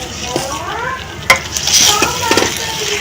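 Semolina and jaggery halwa being stirred and roasted in a pan over low heat, with steady sizzling under repeated scraping strokes of a spoon and a few sharp clinks against the metal.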